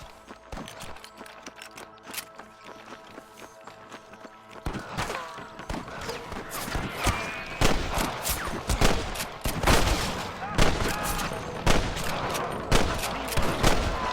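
Sustained gunfire shootout from the Red Dead Redemption video game, set at Pike's Basin: a quieter opening gives way to dense, rapid volleys of loud overlapping shots and sharp cracks that continue through to the end.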